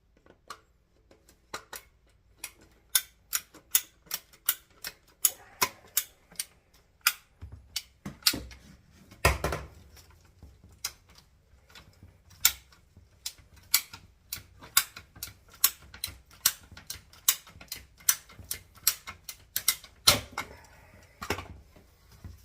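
A steady series of sharp, evenly spaced clicks and snaps comes from cutting the plastic discharge pipe of a Vevor utility sink pump, moderately close, with no talking.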